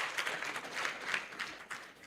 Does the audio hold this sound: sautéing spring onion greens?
no